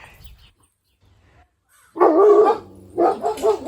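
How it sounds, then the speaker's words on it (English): Dogs bark in a few loud, close bursts after a quiet stretch, with some faint sounds before them. "And there goes my dogs."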